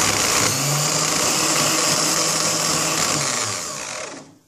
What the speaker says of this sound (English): I want you to see the difference in the power and the RPM it has with the cap on